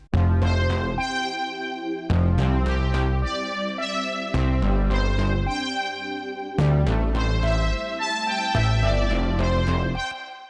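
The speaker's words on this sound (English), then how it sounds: "so I added this classic pad, which is just like one of the stock instruments there is in Logic." Sustained synth chords from a stock Logic pad swell and change every couple of seconds, a soft layered pad with no vocals or drums.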